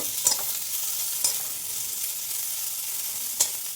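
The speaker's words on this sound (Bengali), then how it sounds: "পেঁয়াজটা একটু ভাজা ভাজা করে নেব" Onions frying in hot oil with whole cumin seeds in a pan give a constant close sizzle, punctuated by three crisp clicks of a spoon against the pan.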